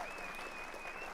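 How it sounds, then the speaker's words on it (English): A brief wash of applause and cheering for podcast participants, fairly quiet and continuous, with a thin sustained whistle-like tone running through it. "Cheers and applause for everybody."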